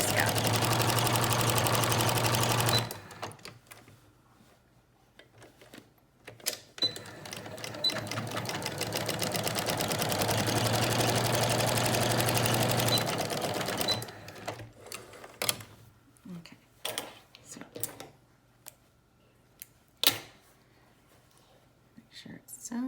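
A home sewing machine runs close by in two long steady whirring bursts while stitching the bottom of a washable face mask, followed by scattered clicks, handling noises and quiet talk.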